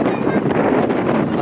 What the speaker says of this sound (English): The weather's reasonable. Very windy.